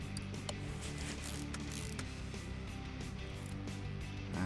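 In Car Mechanic Simulator 2018, a ratchet tightens U-bolts on a leaf spring, a quiet run of rapid mechanical clicks over a constant low hum.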